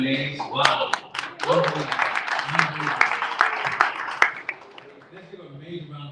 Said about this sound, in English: let's give a round of applause for Crypto Mondays.